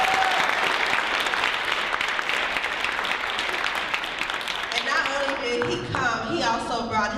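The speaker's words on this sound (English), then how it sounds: "Come on, y'all bring that clap." Sustained loud applause from a TV show audience at a Get Fit Feel Great event fills most of the stretch, then eases as a voice starts talking over it near the end.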